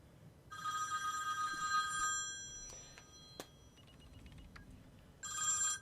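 Telephone ringing in the SimCity video game, an electronic bell trilling in two bursts separated by a gap of quieter game sounds and clicks, clear and close.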